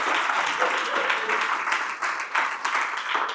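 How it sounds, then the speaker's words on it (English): An audience at a business seminar breaks into sustained applause, dense steady clapping filling the room for several seconds, with some crowd noise mixed in. "That deserves a round of applause."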